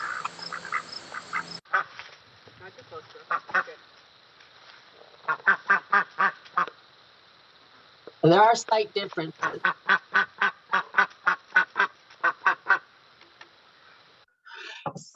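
Male and female ducks kept for egg production quack in loud, rhythmic runs of short calls, with a person speaking between and over the bursts.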